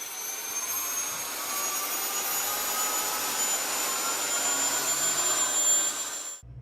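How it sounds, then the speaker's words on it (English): A steady, high-pitched Abrams tank turbine engine whine with a broad roaring rush, running continuously at constant loudness before cutting off abruptly at the end. "Listen to the sound of that motor."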